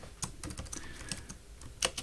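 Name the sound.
typing on a computer keyboard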